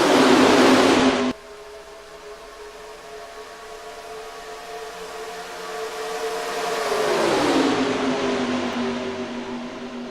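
Stock cars in NASCAR Racing 2003 at an all-star race: a loud burst of engine roar opens, then a lower steady drone of the pack whose pitch climbs as the cars swell in again near the end, with no talk.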